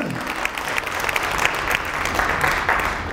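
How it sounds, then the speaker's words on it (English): Audience at a community housing court information session applauding, a steady wash of clapping from a modest crowd lasting a few seconds, moderately close and even. "Let's give them a round of applause."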